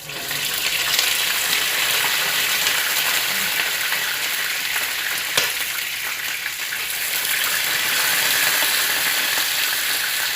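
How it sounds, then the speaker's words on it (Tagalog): Steady, dense sizzling of boiled chicken frying in hot oil, loud and close, with faint stirring and scraping, no voices. "Yun pong manok, isusunod ko. Ipiprito ko siya."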